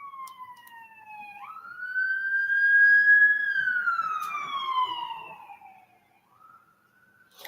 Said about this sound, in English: Let's let the sirens go back.